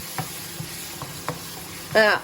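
A butter bean curry simmers in a pan, with soft sizzling under a few distinct spoon-scrapes from stirring, then a short louder burst of sizzle near the end.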